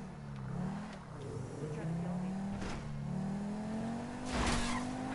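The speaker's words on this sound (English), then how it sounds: "You know the fastest car in the game? That's the car that I found." A fast car in a PS4 video game drives with a droning, shifting engine note and bursts of tire skidding, while players chat over it.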